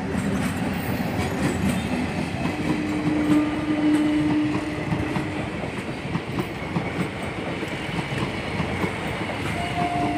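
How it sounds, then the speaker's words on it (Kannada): A local train rolls steadily past near Bondel, Mangalore, with a continuous rumble and rhythmic clatter of wheels on the tracks, sustained and fairly close throughout. "ಇವಾಗ ಲೋಕಲ್ ಟ್ರೈನ್ ಹೋಗ್ತಾ ಉಂಟು, ಬೋಂದೆಲ್ ಹತ್ರ ಇದು"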